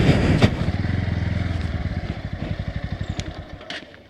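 A motorcycle engine idles and putters nearby as the bike is parked at the Sathanur Dam entrance in Tiruvannamalai, a rapid even thumping that fades toward the end, with a couple of sharp clicks over it.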